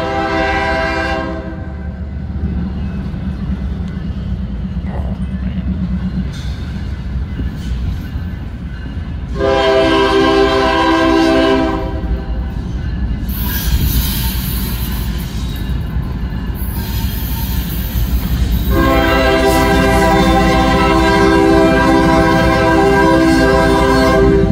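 A CSX or NS freight train rumbles past steadily for the whole stretch, its horn sounding in several long harmonic blasts, the last one loud and sustained.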